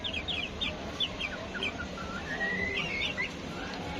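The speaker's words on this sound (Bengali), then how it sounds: "এই একটা মোরগ সকালবেলা খুব ডিস্টার্ব করে" A rooster kept on a balcony calls in a series of short, high crowing and clucking bursts, moderately close over a faint steady background hum.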